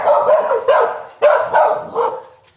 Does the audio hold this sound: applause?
no